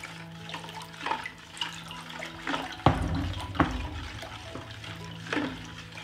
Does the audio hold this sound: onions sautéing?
no